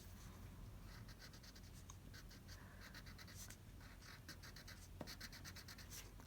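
A crayon scratches across a paper coloring page in quick repeated strokes, close and quiet, with short pauses between bursts and no talking.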